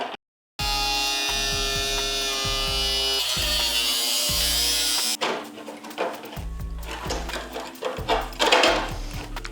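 A power tool whines steadily while cutting metal on a scrapyard Vespa scooter, then gives way to rougher scraping and clattering bursts, close and loud with no talk.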